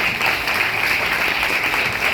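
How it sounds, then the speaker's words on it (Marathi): Steady, dense applause from an audience at a Marathi light-music singing competition in Talegaon Dabhade, sustained and even throughout with no pauses. "या सगळ्यांसाठी आपण जोरदार टाळ्या वाजूया"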